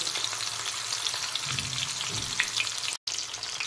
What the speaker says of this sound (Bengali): মাছের 2 সাইডে কিন্তু লাল করে ভেজে নিতে হবে।